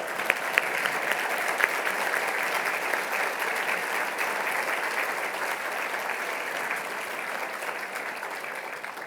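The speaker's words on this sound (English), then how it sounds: "please stand so we can applaud you" Audience at an engineering alumni awards ceremony applauding former honorees who stand, a sustained dense patter of clapping from a large room holding steady throughout, with no speech over it.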